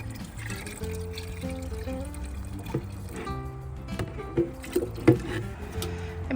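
Water is poured from ice cream pails into a container outdoors, a continuous splashing trickle with a few brief knocks and clunks, close and moderately loud.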